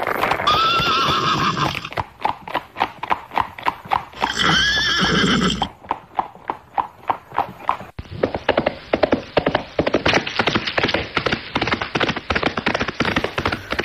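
Horses galloping with rhythmic clip-clopping hooves, loud and close, with two drawn-out neighs early on, then a faster, steady run of hoofbeats to the end.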